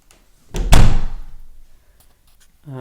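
A cupboard door swung open in a newly moved-into house, giving one solid wooden thunk with a short rattle that dies away, then a few faint clicks.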